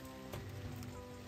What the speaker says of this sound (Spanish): ¿Empieza a llover? Sí, empieza a llover también.